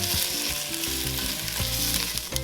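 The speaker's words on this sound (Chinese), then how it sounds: "姜、 洋葱、 葱白炒一下，" Ginger, onion and scallion whites are stir-fried in oil for a Vietnamese crab paste tomato noodle soup, a loud, dense close sizzle with short scraping stirs from the utensil, and no voices.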